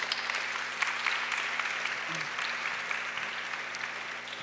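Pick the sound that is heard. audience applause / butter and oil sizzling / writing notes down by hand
audience applause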